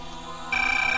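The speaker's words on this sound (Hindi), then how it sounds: "फोन भी तो रुकने का नाम नहीं ले रहा।" A telephone rings in a domestic scene from a Hindi TV serial, a short electronic tone starting abruptly over a low background hum.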